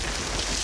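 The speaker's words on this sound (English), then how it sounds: "I think we found the explosion we were looking for." Water bursting up from a fully clogged half-scale toilet system after a cherry bomb goes off, heard as a dense, loud rushing spray with no separate bang, steady throughout the short burst.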